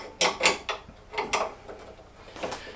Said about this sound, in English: Let me use those to help take off this bolt.